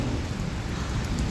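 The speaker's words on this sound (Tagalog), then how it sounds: "Umuulan." Heavy morning rain pours down in a dense, steady hiss with a low rumbling undertone, loud and close, without any pause through the short stretch.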